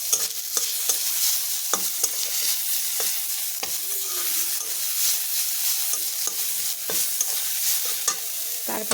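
Garlic sizzles and fries in a pan for a moringa-leaf and fermented-fish dish, a steady crackling hiss broken by repeated sharp scrapes and knocks of a stirring utensil.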